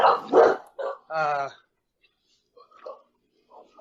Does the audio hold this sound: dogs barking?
yes